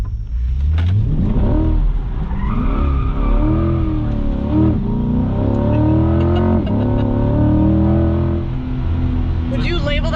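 A 2021 Chevrolet Corvette Z51 swings through a hard U-turn, its engine rising and falling in loud revving sweeps close by, with a brief tire chirp near the end.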